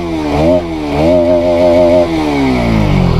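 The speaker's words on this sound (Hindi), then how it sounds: "ये वाला साउंड सबसे प्यारा लगता है इस बाइक का बस" Motorcycle engine off-roading in a jungle while the bike is faulty, idling and blipping with a rough, rising and falling tone, loud and close, with no talk.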